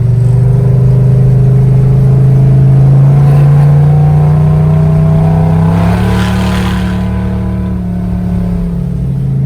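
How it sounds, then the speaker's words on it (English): A Cadillac engine in a 1955 Chevy gasser runs with a loud, close, steady rumbling drone. The pitch climbs gently partway through and then settles again. "this is a Cadillac engine, and it sounds like a Cadillac engine"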